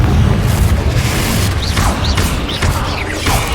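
Spell explosion from the Hogwarts Legacy video game during a fight with spiders in a house, a loud booming blast with crashing debris under dense game noise and faint chirping effects.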